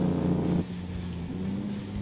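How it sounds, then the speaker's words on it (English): A Kenworth W9 truck in American Truck Simulator gives a loud, low engine-brake drone that drops off after about half a second, then a steadier, quieter low rumble continues. "turn the Jake brake on"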